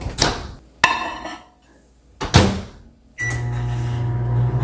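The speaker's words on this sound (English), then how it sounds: "So I'm just going to microwave it." A few sharp clunks and a beep, then a steady low hum of a microwave oven heating beans starts and keeps running.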